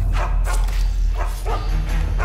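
Dog barking in the stealth video game Mark of the Ninja, several short yapping barks over a constant low hum.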